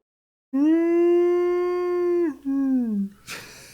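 A dog howls loudly and close by in one long sustained wail that slides downward, followed by a shorter second howl that also falls in pitch, then a brief noisy burst at the end.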